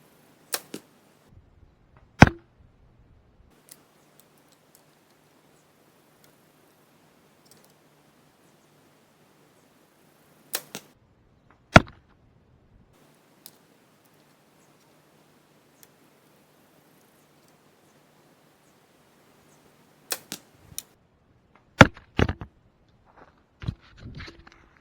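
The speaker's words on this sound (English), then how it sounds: "Going to sling 3 arrows and see where they land." Three arrows are loosed from a bow at a 30-yard target, each a sharp snap and thump spaced apart by long quiet stretches, with small clicks and rustles between shots.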